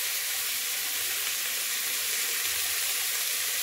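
Rice and dal mixture sautéing in a pan on medium heat for Kovai-style arisi paruppu sadham, a steady close sizzle and hiss without pause and with no talking.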